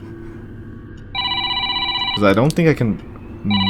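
A telephone rings in the horror game Five Nights at Fang's: Pizza N' T, repeated bursts of a steady electronic bell tone with someone speaking over it partway through.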